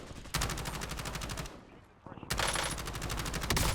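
Rapid automatic gunfire bursts in the video game Call of Duty: Warzone on Rebirth Island, two loud sustained volleys of rattling shots separated by a short lull, close and forceful.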